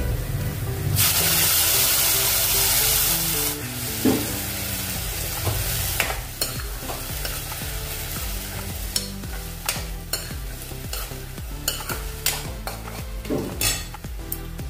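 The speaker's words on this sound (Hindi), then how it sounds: "अब इसमें हम टमाटर की प्यूरी डालेंगे" Tomato puree hits hot ginger garlic paste in a pan with a loud hiss, then a close, busy sizzle and frying crackle continues, with scattered clinks and scrapes of a spoon against the pan.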